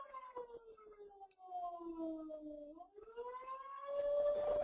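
A fire station siren wails across the street, its tone sliding slowly downward, dipping, then rising again in long continuous sweeps that stay loud and prominent throughout.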